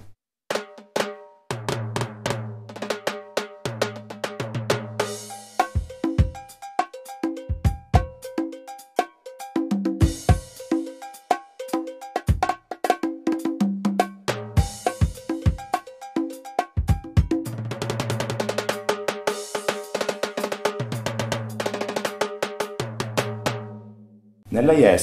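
A Mark Drum YES electronic drum kit is played in a busy groove of crisp kicks, snares and cymbal hits. The rhythmic patterns repeat with short breaks and fills, loud and close.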